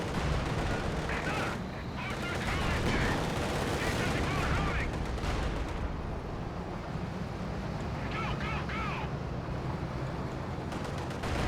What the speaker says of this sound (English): Soviet artillery is reloaded.